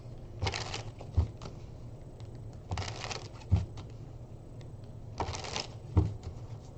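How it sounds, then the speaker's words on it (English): A deck of tarot cards gets shuffled in three separate soft riffling bursts, each ending with a light tap, in a quiet room with no talking. "Oh, shuffle and cut, right?"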